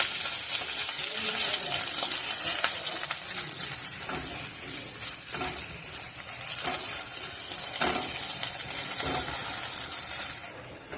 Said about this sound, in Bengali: পেঁয়াজটাও একটু লাল করে ভেজে নেব।